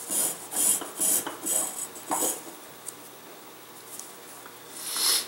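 Sandpaper rasps over the wooden wingtip of a catapult glider in several quick, close strokes, then goes quieter with a few light scuffs before a final brushing pass; no voices.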